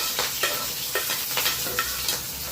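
Curry leaves and onion frying in hot oil, a loud steady sizzle broken by repeated spoon stirs and taps against the pan, close by and without talking.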